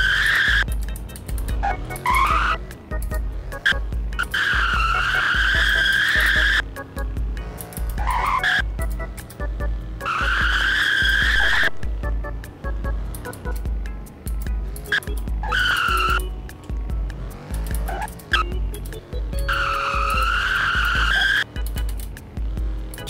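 A car in the Roblox Car Driving game skids and spins out, with repeated loud tire squeals rising and falling over a constant engine drone, broken by short pauses.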